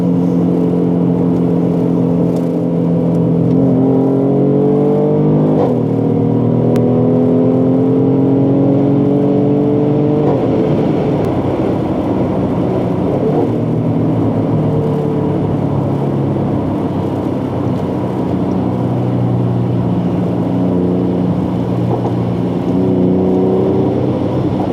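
A 2017 Mercedes-Benz GLE 450 AMG engine revs steadily in a lower gear, its loud drone rising and falling in pitch through several climbs, heard from inside the cabin without talk.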